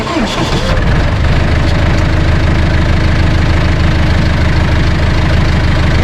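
A loud tractor engine idles steadily and close up before going to cut hay, a continuous low rumble with a knocking throb throughout.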